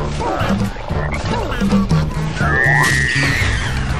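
Frog croaks in a video game boss fight against a giant frog, a series of low rhythmic croaking pulses under game music, with a rising whistle-like tone near the end.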